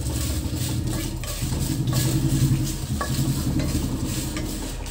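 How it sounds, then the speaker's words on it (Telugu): Dried red chillies fry in a pan with a steady crackling sizzle while a utensil stirs and scrapes through them. It sounds close and moderately quiet, with no talking. "ఎండు మిర్చి బాగా వేయించుకోవాలండి"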